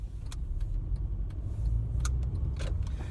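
A car driving along a road while overtaking another car, heard from inside the cabin as a steady low rumble of engine and road noise with a few faint ticks and clicks over it, no one talking.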